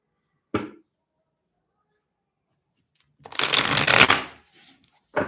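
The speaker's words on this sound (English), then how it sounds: "I'm going to keep on shuffling." Two bursts of tarot card shuffling: a brief riffle near the start, then a longer, louder shuffle after a pause, with no talking.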